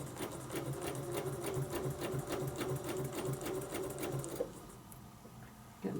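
A sewing machine stitching around a circle with a Westalee ruler, a steady rapid mechanical rhythm of stitches close up that stops after about four seconds.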